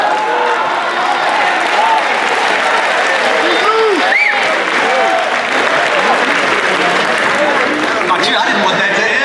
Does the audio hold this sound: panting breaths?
no